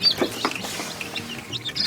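Newly hatched ornamental chicks chirp in a series of thin, high, repeated peeps, close and fairly steady, with no voices over them.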